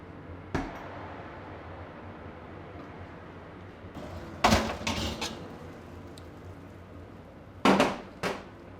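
The door of a Henny Penny FlexFusion Platinum Series combi oven makes a sharp clunk, then later two clusters of latch and hinge knocks as it opens and shuts again, over a quiet background of steady kitchen hum.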